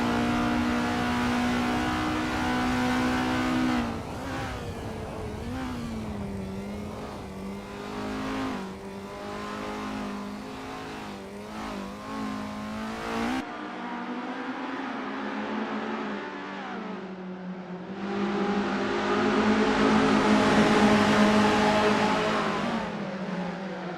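An Isuzu Bellett GTR races at Sportsland SUGO in Assetto Corsa, its engine droning loud and close, rising and falling through gear changes, then briefly dipping before revving hard again, with a touch of tire squeal.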